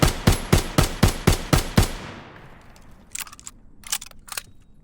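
A Japanese Garand-style prototype rifle fires in a Call of Duty video game: eight loud, evenly spaced shots in a quick burst, then a fading echo and a few sharp mechanical clacks, with no speech.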